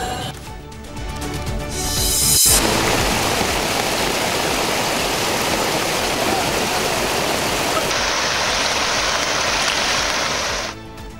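Floodwater rushes loudly and continuously after heavy rain and flash flooding, a dense steady roar of torrent without voices.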